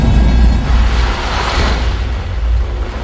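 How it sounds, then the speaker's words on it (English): A loud, continuous roaring blast of a volcanic eruption, pressurized gas ejecting ash, rumbles for several seconds, heavy low booming with a broad hiss of rushing material on top, no voices. "Pressurized gas creates an explosion that ejects the ash."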